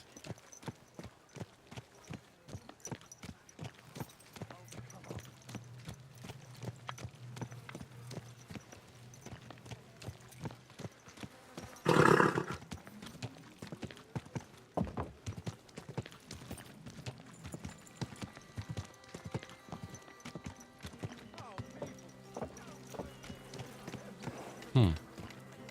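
Rhythmic clip-clop of horse hooves on a hard surface in the video game Kingdom Come: Deliverance 2, steady and close, with a loud thump midway and occasional voices talking.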